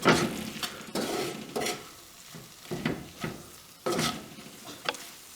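Spice and onion mixture for chicken korma sizzles in a pan over low heat as a utensil stirs and scrapes in repeated strokes, with a soft frying hiss underneath and no talking.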